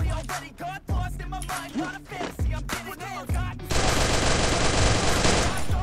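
Video game gunfire: rapid bursts of automatic shots in quick succession, ending in a dense, sustained stretch of continuous firing.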